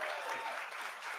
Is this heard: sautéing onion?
no